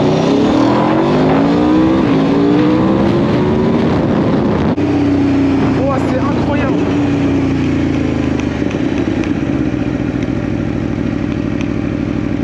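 An Aprilia RSV motorcycle engine starts up and revs, rising and falling in pitch with loud, close engine roar and some mechanical clatter, then settling into a steady idle.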